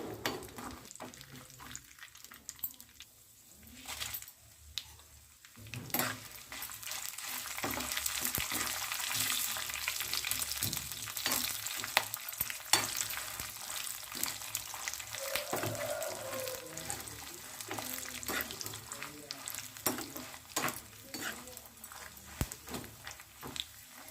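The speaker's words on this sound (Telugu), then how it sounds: "పోపు అయితే బాగా వేగిపోయింది" Tempering spices sizzle and fry in a pan as they are stirred, with scraping stirs and bursts of crackling for a steady stretch, fairly quiet and with no talk.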